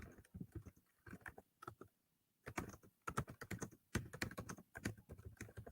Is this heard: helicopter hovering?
no